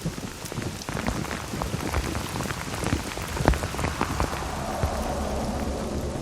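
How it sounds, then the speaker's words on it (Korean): Rain pours outdoors on a mountain during the autumn pine-mushroom harvest, a dense, loud, continuous patter with scattered sharper drops hitting surfaces and no voices. "예보에도 없던 비가 내리기 시작합니다."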